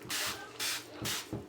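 A spray bottle of cleaner sprays the inside of a dishwasher in three long hissing bursts, close and distinct, followed by a short fourth puff.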